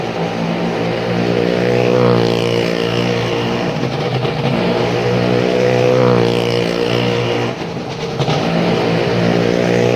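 Three Maruti cars circle a well of death stunt show at a fairground, their engines droning loud and steady, rising and falling in pitch as they sweep past, with a motorcycle also riding the wall.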